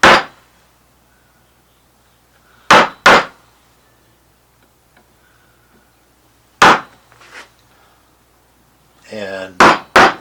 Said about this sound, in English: I'll use a slightly narrower one of these gouges for the inner part of this circle.